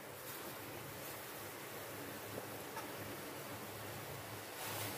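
Pakoras fry in hot oil in a kadai as a karwa chauth fasting meal is cooked, giving a steady, even hiss of bubbling oil that holds across the clip with no talking.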